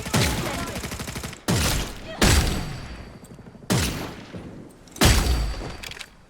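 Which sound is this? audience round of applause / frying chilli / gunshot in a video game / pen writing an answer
gunshot in a video game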